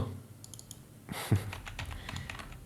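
Quick keyboard typing with irregular clicks, close by, picking up in a busier burst partway through against a low background hum.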